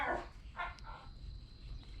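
Ginger the dog gives a few short, faint howling or yelping cries from some distance away, heard outdoors over quiet background noise.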